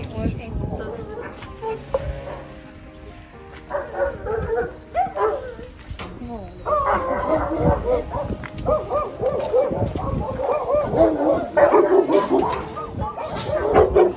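Several dogs at an animal shelter in Vermelles, France, bark, yip and whimper in a noisy chorus, some close and some farther off, the barking building and continuing throughout.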